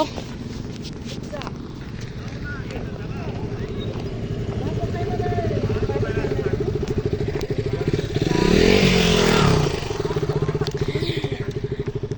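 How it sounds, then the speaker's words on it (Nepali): A KTM Duke motorcycle engine runs with a rapid pulsing idle that swells into a louder rev near the end, heard outdoors with voices talking and footsteps clattering nearby. "त्यो डुक बाइक हो"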